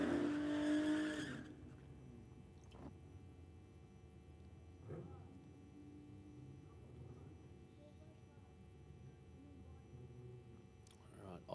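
No-prep drag racing at an Australian strip: a nitrous-assisted V6 VS Ute against an LJ Torana. A loud engine roar opens for about a second, then drops away to a low, distant rumble with faint background voices.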